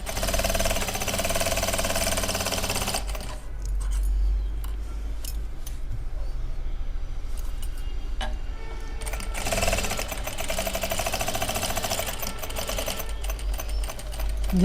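Electric sewing machine running a seam on palazzo pants, a rapid mechanical whirring clatter in two bursts with a short pause between, close and steady, with fabric handling noises in the gap.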